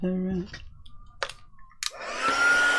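A hair dryer blows steadily to dry non-waterproof ink on a mixed media painting on board, starting after a few clicks and a voice, then running loud and continuous.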